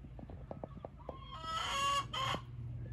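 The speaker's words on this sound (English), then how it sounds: "The chickens make noise, so they kind of give me a heads up." Several short clucks from chickens, then a loud rooster crow rising over them, close by with no voices.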